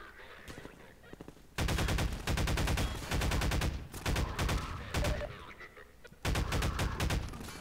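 Bursts of gunfire from the shooter Half-Life 2 rattle out in several loud, dense volleys separated by short lulls, with rapid repeated shots packed into each burst.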